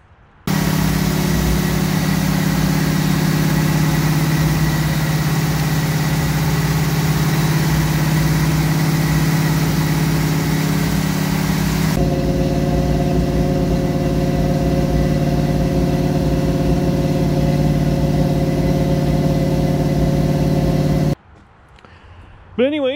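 1971 Chevy Nova SS engine idling close by after a fresh start, a loud steady rumbling drone that shifts in tone partway through, then drops away near the end.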